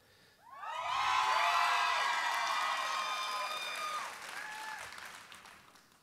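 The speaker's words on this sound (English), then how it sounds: "You can applaud these schools too." A large convocation audience at a Dallas school district event breaks into applause with cheers and whoops, rising quickly, holding strong for a few seconds, then easing off as scattered shouts linger.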